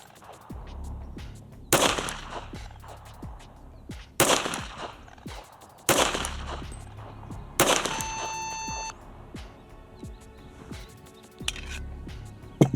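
Sharp, loud pistol shots from a Tisas 1911 at an outdoor shooting range, five evenly spaced reports each followed by a brief decay, with a steady electronic beep ringing out after the fourth shot.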